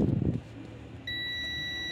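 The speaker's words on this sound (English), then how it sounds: "So you can hear the beeping." A multimeter on continuity test sounds a steady, loud electronic beep that starts partway through and holds without a break, after a brief rustle of handling. The check is made on a 2016 Ford Explorer whose alternator is not charging.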